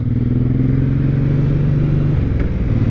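A 2023 Suzuki Boulevard M109R B.O.S.S. cruiser motorcycle rumbles steadily while ridden slowly through a corner, a deep, even engine drone close by with a brief clatter near the end.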